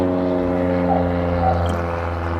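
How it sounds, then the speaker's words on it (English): A propeller airplane passes overhead, its steady low droning hum filling the background continuously and fairly loud throughout. "sorry if you hear a plane over top."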